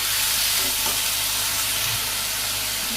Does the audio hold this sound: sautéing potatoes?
yes